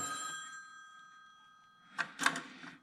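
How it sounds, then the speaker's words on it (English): A telephone rings in a garage workshop during a 1975 Cub tractor solenoid repair: a couple of bright electronic ring bursts near the end, following a long fading tone, fairly loud with no talk over it. "The damn phone rings all the time."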